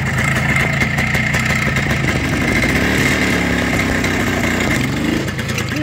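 A Minsk motorcycle engine, its gearbox recently repaired, revs steadily and loud as it is put into first gear and pulls away, with a continuous buzzing two-stroke drone close by and no speech.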